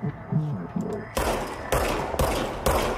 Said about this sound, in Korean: 국장 무기 발사.